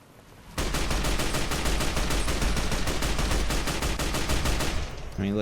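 All-American rifle in Fallout: New Vegas firing in one long rapid automatic burst, loud and close, shots evenly spaced and continuous for about four seconds before stopping abruptly, with no talking.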